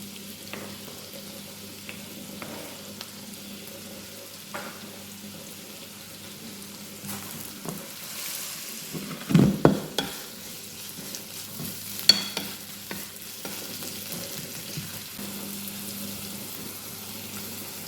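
Mushrooms and curry chilies frying in a home kitchen pan for a Tamil egg fry, a quiet steady sizzle with occasional spoon scrapes and clatters as the mix is stirred.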